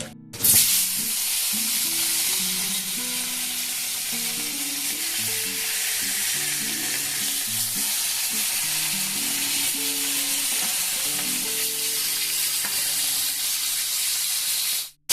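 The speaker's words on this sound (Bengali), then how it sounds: "জিরে এগুলোকে হালকা একটুখানি ভেজে নেব" Steady, continuous sizzling of cumin and coriander seeds frying in a pan, a dense crackling hiss that holds evenly from start to finish.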